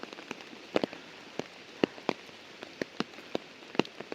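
Rain falls outdoors during goat herding, with scattered drops tapping sharply and irregularly on a nearby surface over a soft, steady patter.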